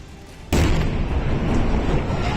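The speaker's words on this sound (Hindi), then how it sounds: "इस दौरान उसमें धमाके भी होते सुनाई दिए, जिसने आसपास के लोगों को खौफ से भर दिया।" Loud explosion bursts out of a burning factory fire, a sudden broad blast followed by a sustained roaring rumble of flames and debris, close and heavy throughout.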